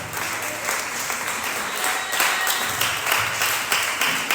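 A church congregation breaks into sustained applause during a worship service, dense clapping filling the room evenly and swelling slightly louder toward the end, with no voices over it.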